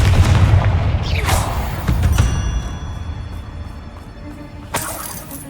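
A Confringo spell explosion in Hogwarts Legacy, a sharp booming blast with crackling shatter debris, followed by a second impact and lingering ringing tones, loud and close with no talk over it.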